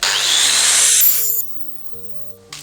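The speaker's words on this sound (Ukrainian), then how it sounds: "Зараз попробую болгаркою стерти." An angle grinder whines loudly while stripping paint off a pipe for about a second and a half, then cuts off, leaving quiet sustained tones.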